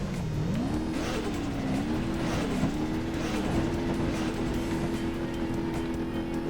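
Rock crawler truck engine in BeamNG.drive straining over rocks in second gear, a low steady drone that rises and dips with throttle as the wheels bounce over obstacles, close and continuous.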